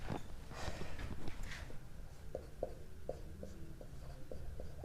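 Chalk or pen scratching out a triangle's three sides during a class 10 maths lesson on triangle similarity, a run of short taps and strokes close by over a low room hum, with no talk.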